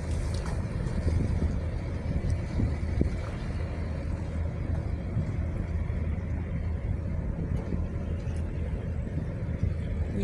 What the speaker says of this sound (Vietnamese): Có chiếc xà lan chở cát thật là lớn nha khán giả.